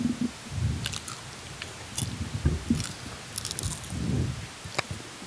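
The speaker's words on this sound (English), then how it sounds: "Now let's try some of this butter popcorn." Crunchy chewing of butter popcorn, close to the mic, with repeated wet bites and crunches in an uneven rhythm and no talking.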